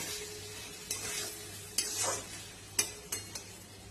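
Banana stem and gobindobhog rice sautéed together in a pan, with a soft steady sizzle and several distinct clinks and scrapes of a spatula stirring against the pan, no voices.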